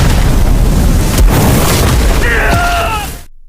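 A pair of grade-9 treasure pills detonates as a powerful diversion bomb, a loud sustained booming roar that fades into ringing, whistling tones before cutting off abruptly.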